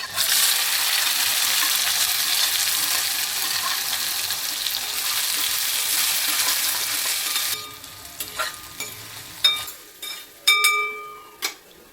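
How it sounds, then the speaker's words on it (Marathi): Garlic, green chili and onion drop into hot oil for an egg methi dish and fry with a loud, dense sizzle that suddenly falls away, leaving quieter crackles and a few sharp metallic clinks near the end. "तेल मस्त गरम झालंय. आता टाकूया लसूण, मिरची, कांदा."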